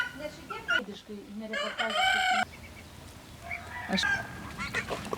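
Hens cluck and squawk in short, uneven bursts nearby, with one louder drawn-out call among them.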